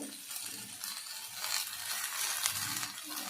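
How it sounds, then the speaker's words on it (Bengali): Potatoes frying in a pan for a bitter gourd curry with hilsa fish bones give a steady, close sizzle with light stirring scrapes throughout, and nobody speaks. "এবারে আলুটা প্রায় ভাজা ভাজা হয়ে এসছে।"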